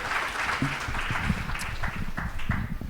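Audience at a Martin Luther King Jr. primary and intermediate division morning program giving a round of applause, a steady, moderately loud clatter of many hands with some voices mixed in.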